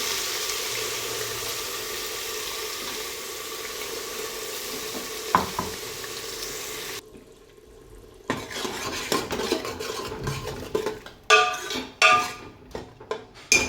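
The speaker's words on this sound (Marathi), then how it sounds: "आता आपण हा जो वाटण बनवून ठेवलं ते वाटण टाकून घ्यायचं आहे." Ground masala paste hits hot oil in a pressure cooker for a Khandeshi chicken curry, giving a steady sizzle that drops away, then clinks and scrapes of a spoon stirring against the metal pot.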